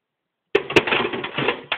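Hand pliers and other metal tools are handled among a collection of DIY screwdrivers and cutters, with sharp metallic clacks and a short rattling clatter, close and fairly loud.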